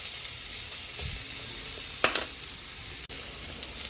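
Chicken sizzles in a pan with onion, giving a steady frying hiss, and a spatula stirs and scrapes with a few distinct clatters and one sharp knock against the pan.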